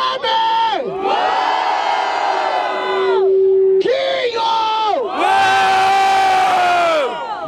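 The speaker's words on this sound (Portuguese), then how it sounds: "Barulho para as rimas do WM" A crowd at an outdoor MC rap battle in Barueri, São Paulo roars and whoops loudly in two long surging bursts with a short gap between, voices shouting over each other close by.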